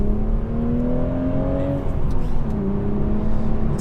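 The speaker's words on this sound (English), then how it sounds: "just a little bit of slip there as I accelerated away in second" A Toyota GR Supra with manual gearbox (335bhp) pulls steadily under load in second gear, a smooth rising drone heard from inside the car, continuous with no voices.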